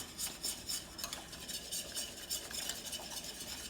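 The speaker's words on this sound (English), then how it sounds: "let's go ahead and add our cornstarch. It's about 2 tablespoons, so it's going to be pretty thick. You want to whisk that." A whisk beats cornstarch into a thick sauce with onion and garlic bits, giving a quick, steady scraping and clinking rhythm against the pot throughout, close and fairly quiet with no talking.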